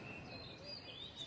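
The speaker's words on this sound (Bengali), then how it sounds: "পাখির কিচিরমিচির আওয়াজ" Faint birds chirping outdoors, thin high tweets and short whistled calls over a quiet hiss, far off and continuous for the whole moment.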